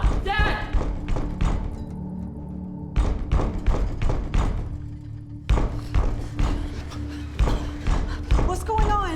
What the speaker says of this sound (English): Banging on the roof. It became louder and louder until it was shaking the whole house.